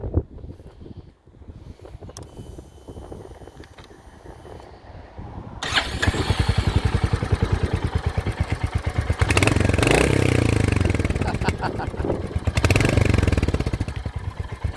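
A Royal Enfield Hunter 350 motorcycle sits quiet with faint wind, then its single-cylinder engine fires up at about six seconds and settles into a loud, steady, thumping idle with a brief rev swell near ten seconds, close to the microphone.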